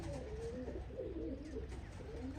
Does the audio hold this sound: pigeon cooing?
yes